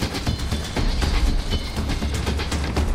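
Rolling train in the Infamous video game, a steady rumble of wheels on rail with regular clickety-clack beats running throughout at a constant moderate level, no voices.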